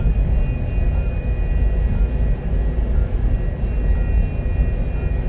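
An F-4F jet in a combat flight game, its engine a loud, steady roar that fills the whole stretch without a break and with no voices over it.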